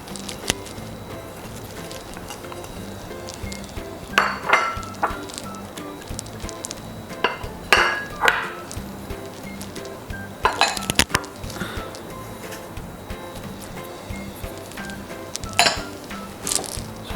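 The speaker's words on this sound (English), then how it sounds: "So at this point I'm going to mix all my dry ingredients." Dry ingredients for puff-puff dough are stirred in a bowl, giving soft scraping with scattered light clinks of utensil against the bowl, quiet and close with no talk.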